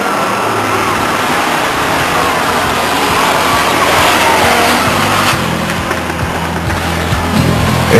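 Race cars roar past loudly at a speedway oval as the 39 car comes off turn 4 to take the checkered flag, with a continuous engine drone and revving over crowd and track noise.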